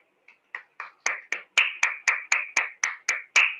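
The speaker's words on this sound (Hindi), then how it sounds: "एक बार सभी लोग जोरदार अपने लिए तालियां बजाएंगे।" A group on an online meeting claps in a steady string of sharp, evenly spaced claps that grow louder after the first few, about a dozen in under four seconds, with no talk.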